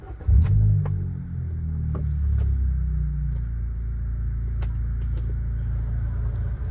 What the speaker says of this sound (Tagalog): So cold start natin.